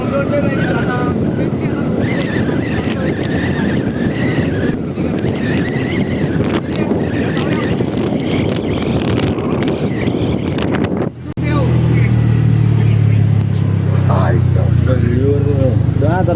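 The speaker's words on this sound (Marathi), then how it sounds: "फायनली आता आम्हाला रिक्षा भेटलेली आहे" Ride in an auto rickshaw heard as a steady loud roar of engine and wind buffeting throughout, with people talking over it; a brief dropout near the end before the rumble returns heavier.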